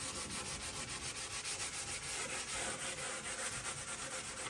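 Rhythmic back-and-forth scraping of a block of popple wood sanding wood, steady strokes at a quick even pace, close by and fairly quiet.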